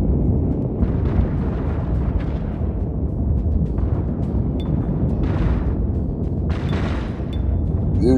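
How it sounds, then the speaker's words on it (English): Space battle in the video game Infinite Lagrange with continuous rumbling gunfire and explosions, a dense, loud barrage with bursts of brighter blasts layered over a steady roar. "They just fired off some shots."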